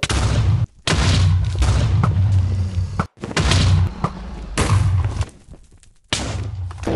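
Loud booming blasts from End crystals exploding in the Minecraft End dimension, several heavy bursts in quick succession with brief gaps of near silence between them.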